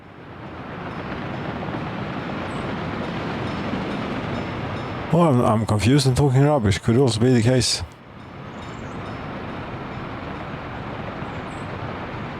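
A train rolls along in the Soviet-era city builder Workers & Resources: Soviet Republic, a steady low rumble that continues throughout, briefly dipping while someone talks over it in the middle.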